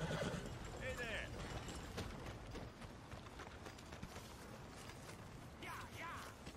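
A horse in the video game Red Dead Redemption 2 clip-clops steadily at a trot, with occasional creaks and a brief whinny, under game ambience and some speech.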